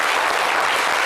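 An audience bursts into applause, a dense, steady wash of clapping hands that fills the whole moment without a break.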